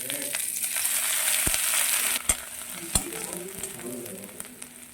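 Grated ginger frying in hot oil for a bottle gourd curry, giving a steady loud sizzle with a few sharp clicks and knocks partway through.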